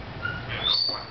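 An African grey parrot gives a brief whistled call with a rising chirp, soft and close, lasting about a second against a quiet indoor room.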